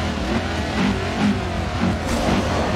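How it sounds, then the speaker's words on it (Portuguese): A car engine revs and accelerates in the mobile racing game Forza Street, a steady dense drone with rising surges, loud and continuous with no talking. "Vamos acelerar aqui, vamos ver."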